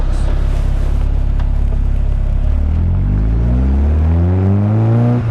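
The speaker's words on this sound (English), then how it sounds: "That accelerates up in 5th gear." An MK Indy RX 5 160 pulls hard in fifth gear, its engine rumble building and whirring higher as the car accelerates, loud and close from inside the cabin.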